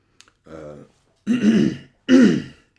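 A soft throat clearing followed by two loud, close coughs, one after another.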